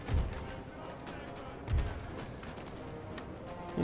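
Musket volleys fire in the Napoleon Total War video game, two muffled booming bursts about a second and a half apart over a constant battle hiss, heard at a distance.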